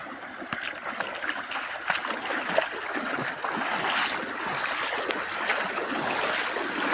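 Strong, swollen water current rushing after a night of heavy rain in a hilly waterfall area, a steady loud broadband roar of flowing, splashing water that fills the scene without letup.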